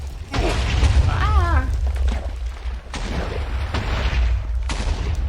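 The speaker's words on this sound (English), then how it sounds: "there's fire and explosions around us right now" Booming fire and TNT explosions in a video game, several heavy blasts and crackling bursts under steady talking.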